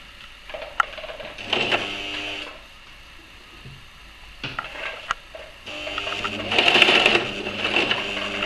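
A sewing machine stitches layered fabric for a face mask, running in several bursts of mechanical whirring separated by short pauses, close by and moderately loud with no talking.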